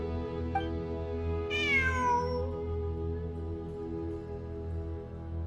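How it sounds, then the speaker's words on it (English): A cat in the video game Genshin Impact gives one clear, drawn-out meow over a steady hum of game background music, with no talk. "It really is a cat."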